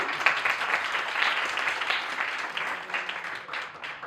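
Audience applause at a lifestyle talk, a steady wash of many hands clapping that holds fairly evenly throughout without voices over it.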